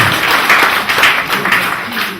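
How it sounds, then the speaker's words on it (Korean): A seminar audience claps together in sustained, fairly loud applause with a few rhythmic surges, filling the room for a couple of seconds. "이러면 박수를 한번 쳐줘요."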